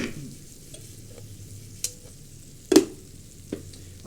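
Onions cook on a griddle for smash burgers with a soft, close sizzle, broken by a few sharp scrapes and taps of a spatula, with no talking.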